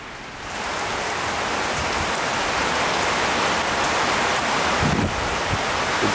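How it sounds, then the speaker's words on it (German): Heavy rain falls steadily during a thunderstorm in India, a dense, even hiss from close by that swells in within the first half second and holds strong throughout. "Es regnet und gewittert in Indien."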